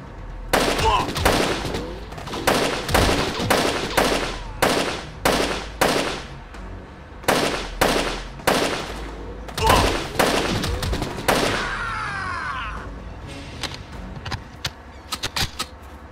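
Rapid bursts of gunfire from the video game Manhunter, sharp repeated cracks in irregular volleys with mechanical creaks between, loud and close, trailing off into sparse faint clicks near the end.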